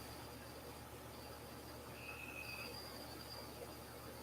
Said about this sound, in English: That sound gets you to sleep, the cricket sound.